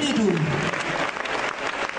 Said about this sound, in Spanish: Ese aplauso, hermanos